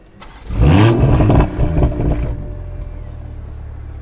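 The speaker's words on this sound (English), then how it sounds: "Let's put it into sport mode and start it up." A Toyota A90 Supra in sport mode fires up with a loud starter whir and a sharp rev flare, fitted with an aftermarket downpipe, then drops into a steady, rumbling idle close by.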